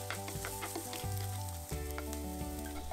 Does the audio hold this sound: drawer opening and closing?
no